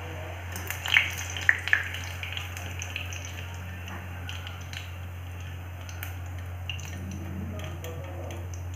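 Onion pakoras frying in hot oil give a faint, steady sizzle with a few small pops near the start, over a constant low hum.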